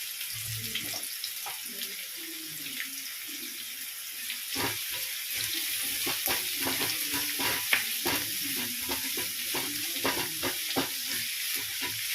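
Onions are stirred in hot oil with a constant loud sizzle and frequent spatula scrapes against the pan. Soft handling noises come first, then the frying takes over.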